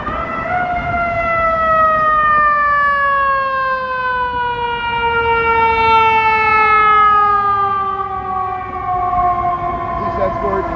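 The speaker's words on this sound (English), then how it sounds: "here comes an ambulance coming up Michigan Avenue right in front of the Wrigley building" Ambulance siren on Michigan Avenue in Chicago, in front of the Wrigley Building, wailing in long steady tones that slide slowly downward as it passes close by over city traffic rumble.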